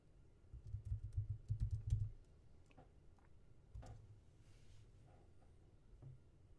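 A computer keyboard clicks in a short, quick burst of keystrokes up close, followed by a few scattered single taps in an otherwise quiet room.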